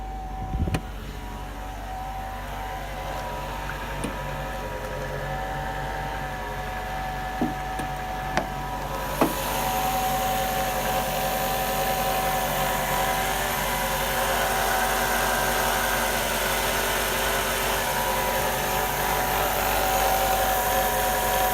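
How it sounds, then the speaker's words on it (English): A Mercedes C55 AMG engine idles in its open engine bay on steel engine mounts, a low steady hum with faint clicks, growing slightly louder and fuller about halfway through. "You guys can take a look at how it idles inside the engine bay."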